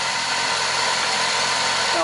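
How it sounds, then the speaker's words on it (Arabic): A motorcycle engine fitted with a BX 405 carburetor and automatic choke idles fast in a steady, continuous drone, loud and close, with no pauses across the stretch. "الموتور يدور زيادة لين يسخن الموتور باش يعاود ينزل"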